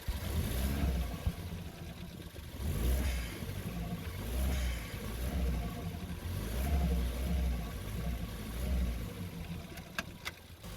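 A 2014 Ford Fiesta ST with a worn engine gearbox mount pulls away in first gear, its engine rising and falling in steady low surges of revving with a couple of sharp clunks near the end.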